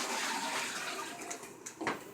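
Water from a foot-care basin is poured away in a bathroom, a continuous splashing rush lasting about two seconds with a few small gurgles at the end.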